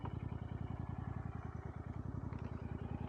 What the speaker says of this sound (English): I'm going to leave the engine running